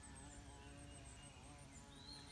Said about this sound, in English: I can hear them bees buzzing around me. Carpenter bees are out today.